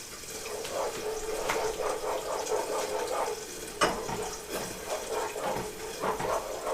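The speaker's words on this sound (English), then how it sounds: "now we're going to dump in our milk very slowly" Milk poured slowly into a pot while being stirred for creamy eggs, a steady liquid trickle with soft repeated scraping and clinks from the stirring throughout, no talking.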